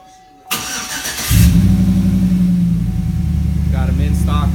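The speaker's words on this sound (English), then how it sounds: "for the remote start, all we do is push the middle side button and it'll crank the engine" A 2007–2013 Chevy Silverado is started by a Viper remote starter: after a brief chirp, the starter cranks for about a second and the engine catches, settling into a loud, steady idle close by with faint voices.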